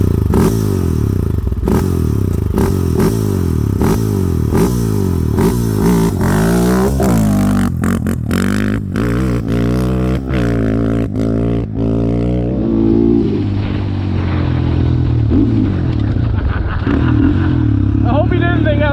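A Honda 400EX quad fitted with a 416 big bore kit, cam and FMF header revs hard and close, its engine note rising and falling in repeated pulses with some clatter, while people talk over it.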